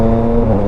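A 2023 Yamaha Tracer 900 GT with quick shifter and auto blip, its engine droning loudly up close with a brief rev swell during a gear change while riding.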